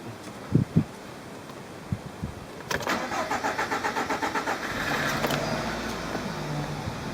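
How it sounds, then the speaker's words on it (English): A Nissan engine cranks after a fuel filter change: a few clunks, then a rapid rhythmic starter whirr for about two seconds before the engine catches and settles into a steady idle. "Engine started, no worries"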